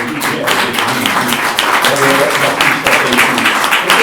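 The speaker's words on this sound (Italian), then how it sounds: "avete fatto un applauso" Audience applause at an Italian lecture on sundials and the solar transit at San Petronio, a steady dense clatter of many hands filling the hall for about four seconds with voices mixed in.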